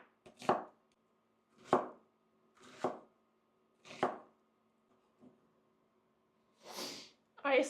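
Onions chopped on a cutting board with a knife, about five distinct thuds spaced roughly a second apart, close and clear, followed by a sniff or breathy exhale near the end.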